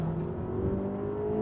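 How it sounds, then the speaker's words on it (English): A Ferrari Amalfi grand tourer revs its engine in a steady, continuous drone whose pitch climbs gradually, close and fairly loud, with no voices. "The engine as well has a lovely gravelly low note"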